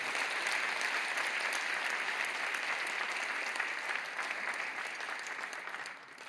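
Church congregation applauding at a teacher appointment and award event, an even, dense patter of many hands held for several seconds before tapering off at the end.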